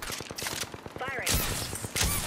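Rapid gunfire in a battle-royale video game, quick repeated shots in a steady rhythm building to louder blasts near the end, with a player talking over it.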